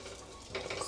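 Whole spices sautéing in about a spoonful of ghee in a pan, a faint close sizzle that brightens halfway through as a utensil scrapes and stirs.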